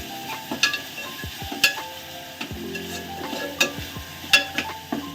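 Tomatoes and onions fry in a home kitchen pan, a close steady sizzle broken by repeated scraping stirs and a few sharp clinks of a utensil against the pan, with no talking.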